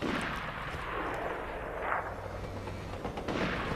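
Gunfire in the shooter game Borderlands 2, heard as a dense, steady barrage of distant-sounding bursts with a few heavier booms, continuing through the whole stretch with no voices over it.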